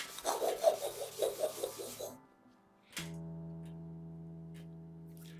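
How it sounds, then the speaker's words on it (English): A Scotch-Brite pad cupped around the neck of an old Kramer guitar rubs in a run of quick, rhythmic rasping strokes, close and fairly loud, then stops and gives way to a steady low hum. "A Scotch-Brite pad, cup it around the neck."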